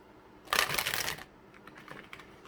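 Tarot cards are shuffled in the hands, giving a quick riffling flutter of papery slaps in one main burst and then a few softer scattered snaps, close and fairly quiet.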